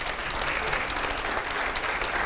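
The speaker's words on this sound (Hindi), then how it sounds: "अब जरा जोरदार तालियां हो जाए अगले सवाल के लिए।" A TV news studio audience gives loud, dense, continuous applause, heard close up and steady with no talk over it.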